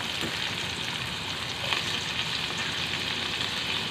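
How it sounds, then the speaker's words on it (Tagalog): Hot oil crackles and spatters steadily as tomato is sautéed in a pan for an eggplant omelette, a close, continuous sizzle with no talk. "Tumatalsik yung ating mantika."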